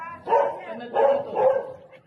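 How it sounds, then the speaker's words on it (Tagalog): A dog barks three times in close succession during a flood drain rescue, the barks loud and near. "Tita, yung aso. Yung aso."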